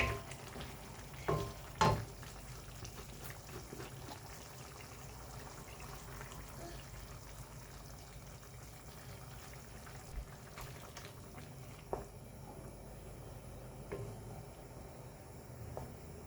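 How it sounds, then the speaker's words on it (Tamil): Chicken gravy simmers in a pot with a faint, steady bubbling, broken by a few quiet clinks and taps near the start. "சிக்கன் கொஞ்சம் வெந்துட்டே இருக்குது"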